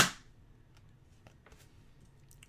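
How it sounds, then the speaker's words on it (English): A firework outside goes off with a single sharp, loud bang, followed by faint scattered crackles and pops in the quiet background. "Can't believe the fireworks are still going."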